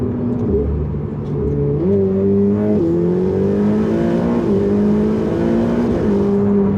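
A Ferrari mid-engine V8 revs up steadily, its deep roar rising in pitch in stages as it accelerates, loud and continuous with no talking.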